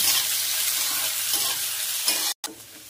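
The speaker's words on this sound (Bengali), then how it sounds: "এটা একটু হালকা ফ্রাই হোক" Capsicum, with beans already added, fries in a pan for masala Maggi, producing a loud, continuous hissing sizzle with light stirring scrapes that cuts out briefly near the end.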